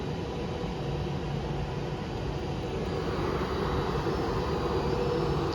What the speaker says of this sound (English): off goes the 14:25 Avanti West Coast service from London Euston to Edinburgh